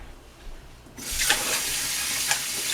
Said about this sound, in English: We gotta wash our hands for the next part because we'll be touching.